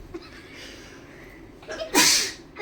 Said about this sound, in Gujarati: છીકવાનું ચાલુ.